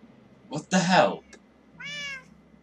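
A Minecraft cat gives one clear, mid-loud meow after a burst of excited talking, with the two sounds separated by a short gap.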